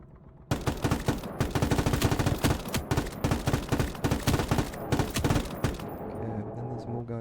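Sustained machine gun bursts and a rapid, dense fusillade in Call to Arms Gates of Hell, a USSR versus Germany battle, loud and continuous for about five seconds before cutting off into quieter battlefield ambience.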